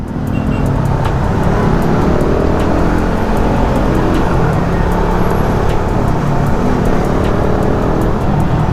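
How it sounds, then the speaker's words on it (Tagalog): Loud open-muffler vehicles, jeepneys and motorcycles among them, roar through night traffic on the road from Bacoor to Dasmariñas, Cavite. The engine noise and road rumble stay close and heavy for the whole stretch, with no talk. "Sobrang ingay yung lakas talaga ng mga naka-open muffler yan"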